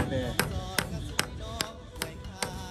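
A hammer drives nails into wood on a roof. Seven sharp, evenly spaced strikes land about every 0.4 seconds, close and distinct over a low background hum.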